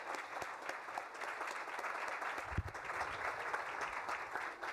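A breakfast audience at a county economic development event applauds steadily for several seconds, a dense, even wash of many hands clapping together with no voices on top.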